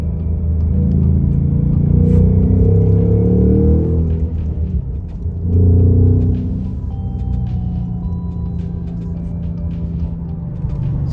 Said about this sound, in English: you just heard the rev matching again